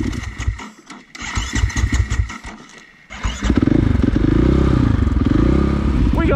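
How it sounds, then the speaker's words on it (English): A rally car's starter motor cranks in uneven bursts with clattering for about three seconds before the engine catches and settles into a loud, steady close-up idle. "I really must get this starter motor sorted."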